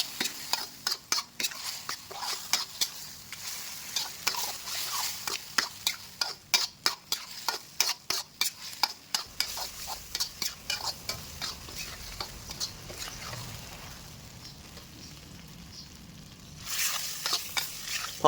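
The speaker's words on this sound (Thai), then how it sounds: "ทีนี้เราก็ผัดให้ทุกอย่างเข้ากันดีเลยครับ" Minced pork chili paste stir-fried in a pan, seasoned with sugar and sauce: rapid rhythmic spatula scraping over a frying sizzle for about nine seconds, then a quieter sizzle with a brief scrape near the end.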